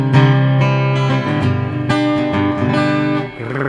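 Acoustic guitar strummed with a thin, slightly flexible pick held firmly: bright, full chords rung out in a few quick strokes, loud and close, with no talking.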